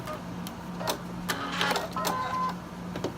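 A sewing machine chain stitching fabric runs in short uneven bursts of rapid mechanical ticking and whirring, close and fairly quiet, with brief pauses between runs.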